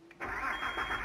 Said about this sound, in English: try and start the engine.